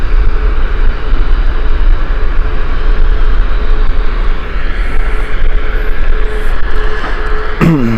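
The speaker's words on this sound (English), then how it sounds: "Right, Iberia Express taking off right now" Iberia Express airliner taking off at Gatwick Airport, a loud, continuous broadband engine roar with a low rumble holding steady throughout, heard from a distance outdoors.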